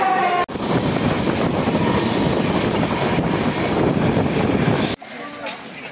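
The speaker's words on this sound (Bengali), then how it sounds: "এই যে ট্রেনটা যাচ্ছে" A train passes close by on the rails at Bolpur, producing a loud continuous rumble and rattle of wheels and carriages that fills the whole stretch, with brief cuts near the start and end.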